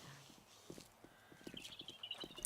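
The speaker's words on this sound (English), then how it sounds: "I hear footsteps too." Footsteps in the survival game 7 Days to Die, faint, soft, evenly spaced thuds with a quiet background hum.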